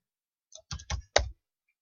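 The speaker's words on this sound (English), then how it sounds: "So I keep typing in the same one." Typing on a computer keyboard while formatting an essay title: three quick bursts of clustered key clicks close by, then silence.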